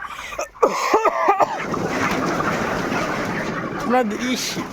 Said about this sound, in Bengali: আমি কেসেছি বলে দেখুন মুরগি কীভাবে ভয় পেয়েছে।